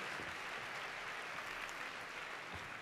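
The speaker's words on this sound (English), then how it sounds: "Could I give her a big round of applause as she joins me on stage?" An audience at a speaking event claps together as a volunteer comes up onto the stage, a steady wash of applause heard at a distance and fairly quiet, with no speech over it.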